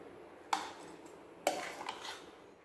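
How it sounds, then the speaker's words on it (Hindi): Sliced onions and green chili drop into a cooking pan in two distinct soft clatters about a second apart, followed by quiet sizzling, close and moderately faint with no talking. "तो ये जो लंबे स्लाइस वाला 3 प्याज था इसे इसमें डाल दूँगी और ग्रीन चिली भी"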